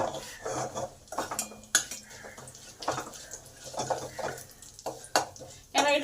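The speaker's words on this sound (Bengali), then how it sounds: "এই লঙ্কা, পাঁচফোড়ন আর তেজপাতা এটা কয়েক সেকেন্ড ভালো করে ভেজে নেব।" Dried red chili, five-spice and bay leaf fry in hot oil with a moderate sizzle, under frequent clatter and scraping as a spoon stirs against the pan.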